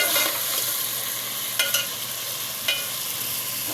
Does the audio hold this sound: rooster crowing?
no